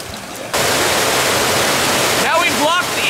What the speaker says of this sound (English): We are going to open the gate and flush it out.